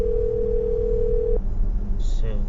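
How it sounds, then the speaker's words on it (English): A steady telephone dial tone hums for over a second, then cuts off, followed by a brief high beep and faint background noise. "I'm gonna dial his phone number now."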